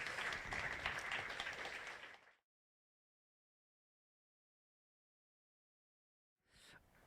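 Audience applause at an Ignite Talks event at MSU, a loud burst of clapping for about two seconds that cuts to silence, then resumes briefly near the end.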